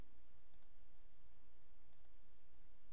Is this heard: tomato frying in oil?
no